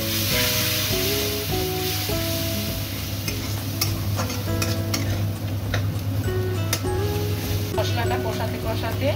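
A spice masala of chili powder and turmeric for Bengali crab curry sizzles in a pan as a little water goes in, with steady hissing and stirring scrapes, a faint low hum running underneath.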